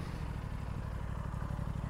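An Aprilia RS 457 parallel-twin sport motorcycle idles steadily through its underbelly exhaust, a close, constant low burble with a rapid even pulse and no speech.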